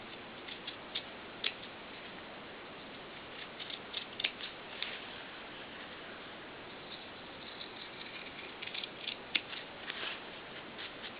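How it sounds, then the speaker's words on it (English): Scissors trim the fabric of a doll's pants leg, making faint, scattered snipping clicks at an irregular pace against a quiet background, with no talking. "So I'm just going to trim this leg up to that point."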